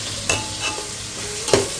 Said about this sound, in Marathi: कांदा टमाटर लसूण टाकलेले तेलामध्ये. तर आता मस्त एकदम परतून घेते.